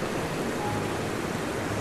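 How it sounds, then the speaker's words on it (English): Rushing river water pouring over white-water cascades makes a steady, broadband roar that stays close and constant, with no voices. "beautiful cascades on that side, a lot of rushing water."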